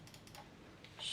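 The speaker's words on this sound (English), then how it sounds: "Clicks, so mouse 1. Mouse 2, mouse wheel click," A few quiet, sharp clicks from gaming mouse buttons and the scroll wheel, spaced irregularly and heard close up over faint background noise.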